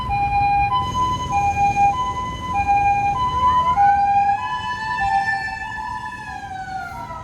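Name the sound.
ambulance siren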